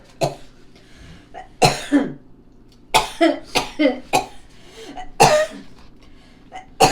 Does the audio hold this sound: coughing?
yes